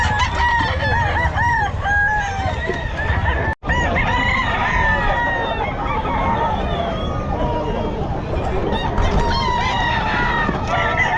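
Roosters and stag gamecocks crow repeatedly at the Bocaue pet market, loud and close, with clucking fowl and crowd noise around them and people talking.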